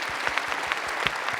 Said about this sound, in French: si on peut les applaudir une nouvelle fois.